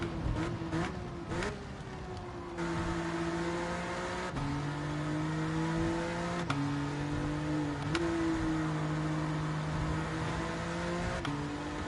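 Racing car engine in a video game revving up through its gears, the steady whine climbing in pitch and dropping at each shift, loud and continuous, with the top gears still pulling strongly.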